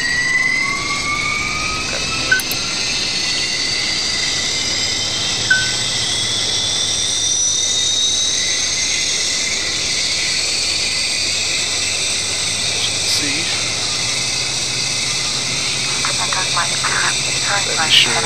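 A Jetstream turboprop's left engine spools up in a flight simulator, a steady loud whine with a rising high tone and a constant rushing roar, with occasional faint clicks over it.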